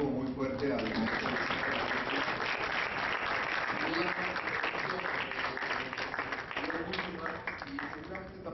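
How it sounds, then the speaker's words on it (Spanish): Sustained, dense applause from an audience honouring a teacher at a Maya culture festival event, steady clapping throughout with voices faintly mixed in. "vamos a darles un aplauso muy fuerte al maestro"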